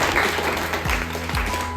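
Schoolchildren at a government school beauty and wellness guest lecture clap together, a short burst of fairly faint, steady applause in a reverberant room.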